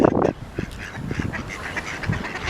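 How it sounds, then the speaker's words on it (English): Mallard ducks, males and females, quacking and calling outdoors at a cold, windy reservoir, with several short honking calls close by over steady wind noise. "the mallards here, the males and the females"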